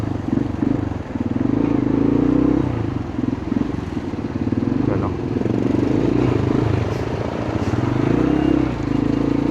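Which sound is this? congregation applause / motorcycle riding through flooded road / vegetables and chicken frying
motorcycle riding through flooded road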